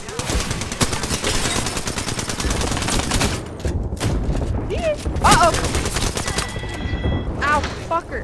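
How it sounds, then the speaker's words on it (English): Rapid bursts of gunfire and blasts fill a round of the Apex Legends video game during an airstrike, dense and loud at first, thinning out later, with voices talking over the action. "There is an airstrike on our position."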